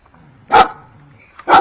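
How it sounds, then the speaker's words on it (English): A dog snarls out two short, loud barks about a second apart, near and sharp, with quiet gaps between them and no talk over them. "It's just a puppy."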